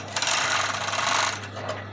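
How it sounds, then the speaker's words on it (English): An overlocker runs in a steady mechanical whir as it double-stitches a fabric waistband closed, sounding close and continuous for about a second and a half before it slows and stops. "I'm just double stitching on my"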